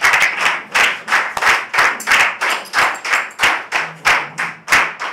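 An audience claps in a steady, loud, rhythmic unison during a standing ovation at a club's session assembly, the beats evenly spaced and sustained throughout.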